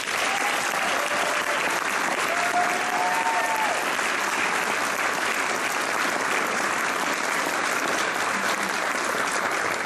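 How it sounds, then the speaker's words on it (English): A large audience at the Brandon High School 2016 honors convocation gives steady, sustained applause that fills the hall from start to finish without a break. "Please give a big round of applause to Mr."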